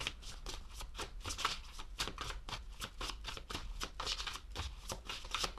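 Close, steady shuffling of a deck of oracle cards, with quick rhythmic riffling flicks repeating evenly throughout and no talking.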